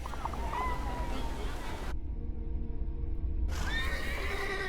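A horse whinnies and hooves clip-clop in the video game The Thaumaturge, with a brief gap of near silence midway and a busy ambient background throughout.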